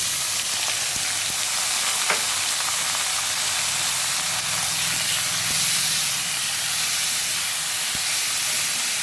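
Beetroot goes into a pan of fried garlic, dried garlic and green chilli and sizzles loudly and continuously at close range, a strong hiss broken by a few sharp clicks of stirring.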